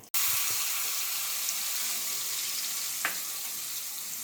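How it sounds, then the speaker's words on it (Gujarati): A pinch of asafoetida goes into hot oil for tomato chutney, giving a steady, close sizzle that holds evenly throughout after a brief clatter at the start. "આપણું તેલ ગરમ થાય એટલે એમાં આપણે ચપટી હિંગ નાખી દઈશું"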